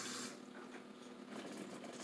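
A Whirlpool Gold Series washer's replacement water pump drains water, giving a steady rushing, gurgling hum that runs unbroken and fairly close, with no talk over it.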